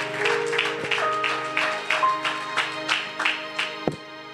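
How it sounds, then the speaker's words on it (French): A church congregation at a French-language prophetic service claps in a steady rhythmic beat, many hands together, sustained and fairly loud, with music tones under it and no clear talk. "Applaudissons pour Jésus."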